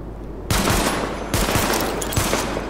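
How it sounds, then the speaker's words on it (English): Heavy automatic gunfire from a weapon test in the video game The Division, loud and close, with sustained rattling bursts that restart twice in under three seconds and run without talk. "Open fire at the highlighted targets."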